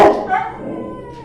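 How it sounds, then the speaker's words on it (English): Excited dogs whimper and yip close by, a burst of sharp yelps at the start trailing off into thin whining, loud and alone without talk. "the dogs are really, really excited about that"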